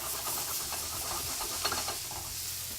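Food sizzles and hisses steadily in a hot pan just after being flipped, a continuous bright frying crackle with a faint scrape partway through.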